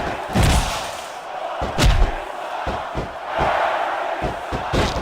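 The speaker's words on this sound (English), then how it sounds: "Now the fans start to cheer for him." In the WWE SmackDown vs Raw 2006 video game, a crowd roars and cheers through an arena during a wrestling match, punctuated by repeated heavy slams and thuds from the ring.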